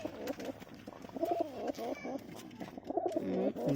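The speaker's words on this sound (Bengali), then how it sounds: "চলো পায়রাগুলোকে খেতে দিয়ে দিই" Pigeons coo repeatedly and close up before feeding, with a run of rolling, throaty calls in uneven bursts and no one speaking.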